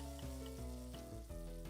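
Food sautéing in a pan in a cooking video game, a continuous close sizzle that runs unbroken under steady tonal game music.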